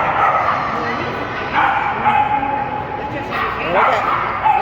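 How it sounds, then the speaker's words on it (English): Small dogs yip and bark in quick, high-pitched bursts amid a noisy, busy room in Playa del Carmen, Mexico, with voices in the background. "Little dogs do the most."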